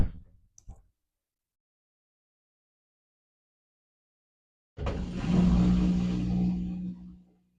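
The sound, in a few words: battery powered clothes washer spinning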